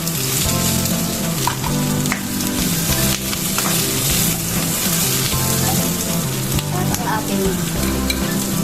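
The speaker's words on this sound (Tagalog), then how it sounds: "Tapos, lagyan na natin ang ating pork." Pork for sweet and sour pork fries in a pan with ginger, giving a loud, continuous sizzle with crackles and the scrape of stirring, close by and steady throughout.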